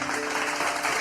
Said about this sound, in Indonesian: Tepuk tangan yang paling meriah.